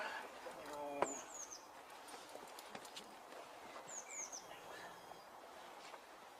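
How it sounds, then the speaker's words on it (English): Birds chirp outdoors in brief, scattered high calls, fairly faint over a steady background of ambient noise. "hear the birds in the sky"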